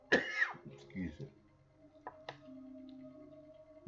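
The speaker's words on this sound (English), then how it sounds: "the more I talk, the more I cough." A short cough or throat clearing near the mic, followed by a few quieter vocal sounds and small noises.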